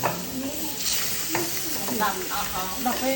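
A duck egg omelette fries and sizzles steadily in a pan, with a constant close hiss broken by occasional stirring and scraping sounds of a utensil against the pan.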